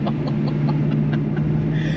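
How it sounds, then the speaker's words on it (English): A worn fan belt on a BMW E92 M3 gives off a rhythmic, repeating chirp-squeal over a steady low engine drone inside a tunnel. "That sounds like fan belt."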